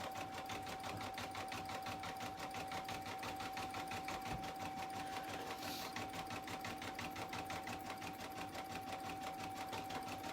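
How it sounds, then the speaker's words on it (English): Embroidery machine stitching a freestanding lace heart, a steady fast rhythmic needle clatter running continuously at moderate level with a constant whine, no talking. "it's starting those lines, stitching one way, and then locking them in on another way."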